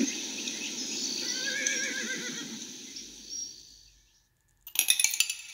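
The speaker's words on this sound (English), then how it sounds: "Horses." A horse whinnies loudly and close, a long descending neigh that fades out, followed by a brief burst of metallic clinking.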